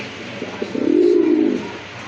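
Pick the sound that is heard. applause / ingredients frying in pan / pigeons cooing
pigeons cooing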